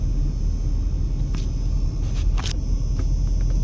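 Saturday night traffic on the Las Vegas Strip: a continuous low rumble of slow, idling vehicles close by, with a few short sharp knocks and clatters breaking through.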